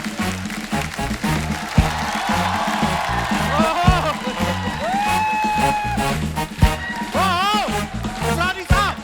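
A studio audience on The Kapil Sharma Show applauds steadily to welcome the actor Asrani, with music playing over the clapping.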